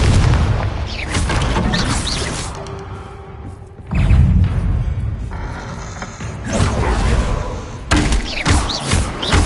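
Explosive spell impacts from Hogwarts Legacy, cast as Confringo and Bombarda: loud, close booms and thuds repeat in several bursts, each followed by a rumbling tail and debris crackle.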